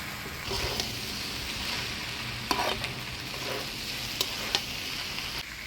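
Jackfruit curry with potatoes and fried prawns sizzles in a pan while being stirred, a continuous close frying hiss broken by a few sharp clinks of the spoon against the pan.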